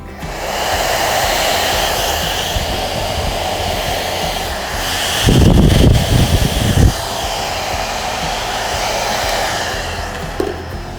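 A hair dryer blows continuously close by while styling a man's straight hair, a steady loud whooshing hum with a brief rougher burst of airflow in the middle.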